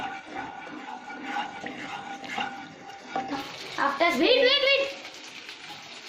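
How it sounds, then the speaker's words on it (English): Ginger and garlic frying in a pan while being stirred make a low sizzle and scraping that rises near the end, under a voice speaking throughout. "Now stir it and now stir this for some time."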